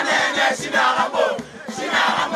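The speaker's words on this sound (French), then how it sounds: "Une foule immense, scandant des cris de joie et porteuse de messages d'encouragement" A huge crowd at a political gathering for party president Néné Ilunga Nkulu cheers and chants with cries of joy. The roar is dense, loud and continuous, swelling in rhythmic waves.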